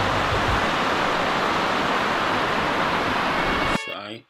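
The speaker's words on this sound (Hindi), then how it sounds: "ये बहता पानी, इसकी आवाज़ सुने माशाल्लाह" Flowing water at Kundal Shahi waterfall in the Neelum Valley, a steady loud broadband rush that fills the whole clip before cutting off abruptly near the end, where a brief voice is heard.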